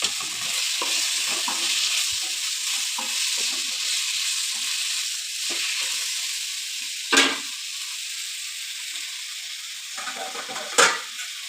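Boiled drumsticks sizzle steadily as they fry in a pan of curry, with soft scraping stirs throughout and two sharp clinks of a utensil against the pan, close and alone.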